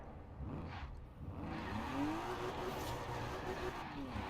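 Ford Custom "Double Down" 1800HP drifting in Forza Horizon, a steady loud engine drone with rising and falling revs and faint tire squeal as the car slides, heard continuously from the interior view.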